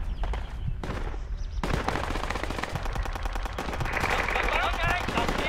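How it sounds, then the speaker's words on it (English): Dense automatic and rifle gunfire in a jungle firefight in the military shooter game Project Reality, rapid bursts overlapping almost nonstop, loud and close with some more distant shots behind. "are y'all still in a firefight?"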